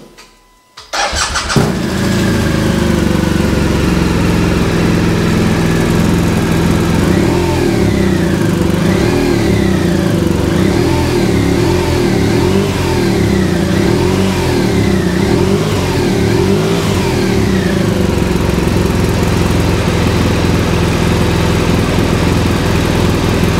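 BMW R1200R motorcycle engine cranking and catching after a brief quiet start, then running loud and steady at close range with a few blips of the throttle rising and falling.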